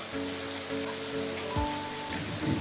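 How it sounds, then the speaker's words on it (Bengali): Heavy rain falls in a steady, close hiss the whole time, with a low hum and a couple of brief clatters beneath it and no talk. "এত বৃষ্টির মধ্যেও রান্না করতে হচ্ছে"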